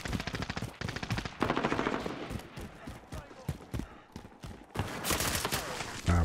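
Gunfire in the first-person shooter Call of Duty Modern Warfare multiplayer, with shotguns in a spawn area: dense, loud bursts of rapid shots in clusters across the clip, with brief lulls and a heavy volley near the end.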